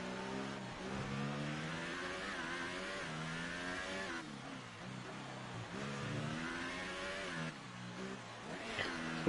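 F1 race cars in a PS4 racing game, engines whining and revving at high pitch with shifting gears, a continuous mid-level drone across the whole stretch.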